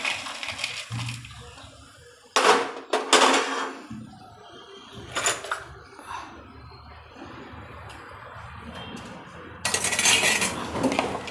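Crispy thepla chevdo, fried thepla pieces, being scooped from a pan into a bowl, with several sharp bursts of metal spoon scraping and clinking against cookware between quieter rustling stretches, close and fairly loud.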